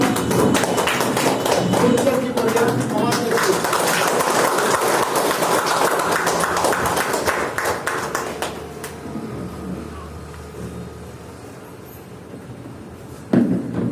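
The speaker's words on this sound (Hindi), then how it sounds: "सब अपने आप को खड़े होकर सर जी के सम्मान के जोरदार तालियों से उनको इन्वाइट करेंगे" Audience standing and clapping loudly at an event in Tiroda, a dense, steady roar of applause for about eight seconds that fades to quieter room noise, with a brief spoken exchange.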